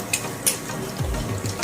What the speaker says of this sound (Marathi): हे पहा, मिरच्या आणि खोबरं छान असं तळत आहे।